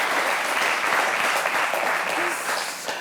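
Steady, dense applause from a studio audience fills the whole stretch, close and loud, easing off slightly near the end, with faint voices mixed underneath.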